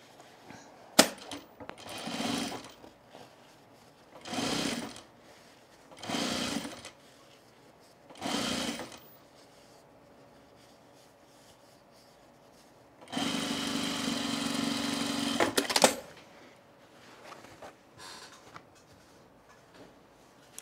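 A sewing machine topstitching men's cargo shorts runs in several short separate bursts of rapid needle clatter, then one longer run of about three seconds, with quiet handling pauses between them.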